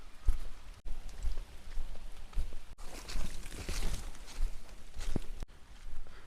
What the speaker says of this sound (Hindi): बारिश काफ़ी तेज़ हुई है।